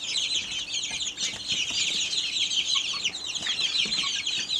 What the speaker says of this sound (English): This is our silver lace Wyandotte eating out of my hand.